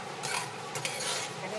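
Raw rice being dry-toasted in a pan is stirred with a steady, close scraping hiss, a soft continuous rustle of grains against the metal with faint clinks of the utensil.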